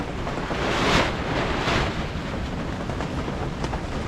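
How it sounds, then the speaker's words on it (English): Strong wind gusting outside a tiny off-grid house, a loud broadband roar that swells in two big gusts early on and keeps rushing steadily afterward, with no one talking. "that wind's getting pretty serious. It's throwing everything around."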